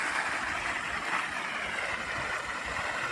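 Irrigation water flowing steadily across a farm field, a continuous broad rushing wash that stays even and close throughout, with no voices over it.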